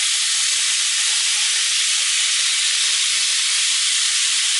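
Hamburger patties fry in a hot pan, giving a loud, steady sizzling hiss that carries on without a break and with no talk over it.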